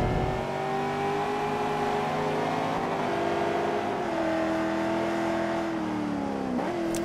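Corvette Z06 Cup race cars run on the Road America road course, their engines a continuous, loud drone that shifts in pitch as they accelerate and lift through the turns, with no talk over them.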